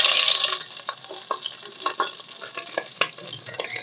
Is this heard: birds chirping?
no